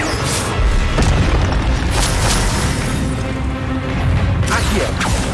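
An Incendio fire spell is cast during a Hogwarts Legacy battle, heard as a loud, sustained roar of booming blasts and crashing impacts, with sharper hits punctuating the continuous rumble.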